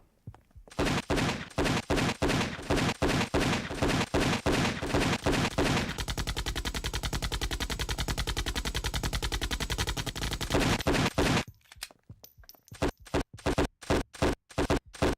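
Gunfire in the PS2 game Don 2: The Game: loud single shots fired in a quick regular rhythm, then a long, fast automatic stream, a sudden stop, and a few more scattered blasts.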